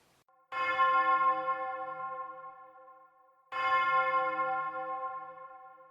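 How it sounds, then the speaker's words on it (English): An hour bell tolls twice, about three seconds apart, each strike deep, dull and hollow, with a long ringing decay in otherwise quiet surroundings. "He spoke before the hour bell sounded, which it now did with a deep, dull, hollow, melancholy one."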